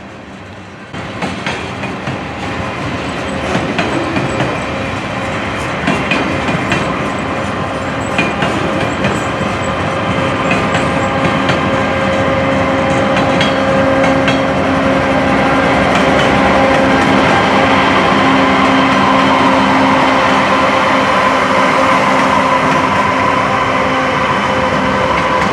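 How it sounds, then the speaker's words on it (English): A long eastbound mixed freight train with mid-train DPUs rolls downhill past an Amtrak station in Pennsylvania, wheels clattering rhythmically on the rails with faint squeals, the rumble loud and building steadily as the cars pass. "we also see an eastbound mixed freight train as it went down the hill past the Amtrak station"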